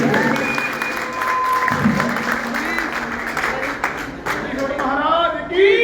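An audience claps to welcome Baba ji at a religious honoring ceremony, a lively burst of applause with voices calling out over it and a louder swell near the end.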